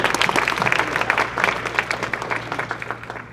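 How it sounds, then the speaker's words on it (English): A room of people applauding at a STEM student internship wrap-up session, brisk uneven clapping close by with a low steady hum underneath, fading slightly toward the end. "And I think that deserves a round of applause."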